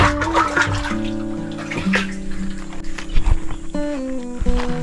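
Water is poured from a bucket onto young mango trees in an orchard, a loud, continuous splashing gush with shifting tones and a few heavier splashes, close to the listener.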